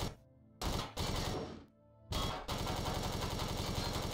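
Sustained automatic fire aimed at a turret in the sci-fi survival game Empyrion, loud rattling bursts broken by two short pauses and then one long continuous stream.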